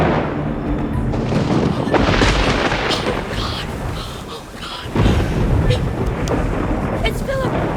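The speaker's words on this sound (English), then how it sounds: "the thunder." Thunder rumbles through a heavy rainstorm at night, a broad low roar with a fresh loud crack near the five-second mark, rain hissing steadily underneath.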